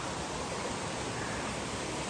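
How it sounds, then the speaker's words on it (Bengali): Steady rushing water at Rawang Kanching waterfall in Malaysia, a dense broadband roar that holds constant and fills the scene from close by, with no voices over it. "ঝর্ণার পানি"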